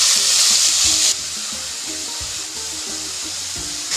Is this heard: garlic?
yes